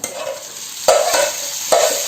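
Loud, continuous sizzling of chicken bhaji in a hot pan, with a few sharp scraping stirs breaking in at intervals.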